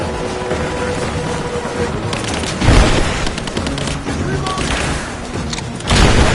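Gunfire in Rise of the Tomb Raider, a loud burst of shots and thudding impacts with a sharp blast midway and another near the end, close by, with game voices calling out now and then.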